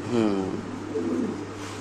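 Andalusian pigeons for sale coo close by, a soft throaty warbling that rises and falls in a couple of rolling phrases over a low background hum.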